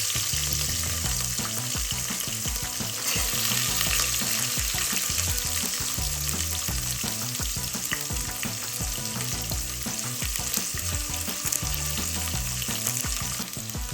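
Green chillies and onion fry in hot oil for veg pulao, a continuous close sizzle and crackle with occasional stirring, steady and unbroken throughout.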